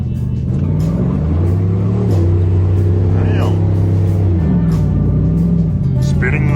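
A truck revs and spins its tires on a slope at an off-road park, the engine droning and rising in pitch as the wheels churn, with voices talking over it.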